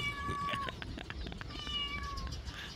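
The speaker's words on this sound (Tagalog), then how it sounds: "Ito yung pusa naman guys." A cat on a goat farm meows twice, two drawn-out, fairly clear cries close to the microphone over light background noise, with no talking.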